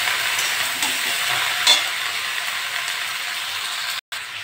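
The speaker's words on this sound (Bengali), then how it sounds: "ভালো করে ভেজে নেবো।" Potato, beetroot and beans fry in a pan, giving a steady hissing sizzle with faint stirring, broken by one brief dropout near the end.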